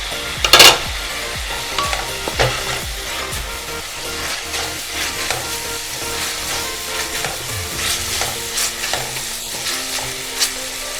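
Tomato and chili go into browned onions for Gujarati-style macaroni pasta: a loud opening splash, then steady sizzling and frying with repeated scraping stirs and utensil clinks, close, with no talk.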